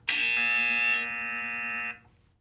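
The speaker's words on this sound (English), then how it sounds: "Oh man, the timer went off." A timer goes off with a loud, steady electronic buzzing tone that sounds alone for about two seconds and then cuts out abruptly.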